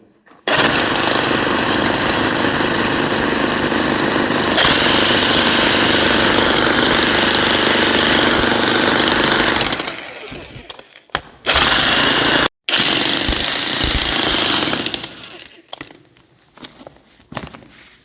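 A cheap Mac Allister electric jackhammer hammers loudly and continuously for about ten seconds, then cuts out, restarts briefly in short bursts and stops, leaving quiet gaps.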